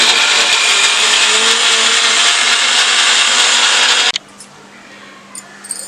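A kitchen mixer grinder whirs loudly and steadily as it blends red chilli and garlic chutney, then cuts off abruptly after about four seconds, leaving a quiet room with faint clicks.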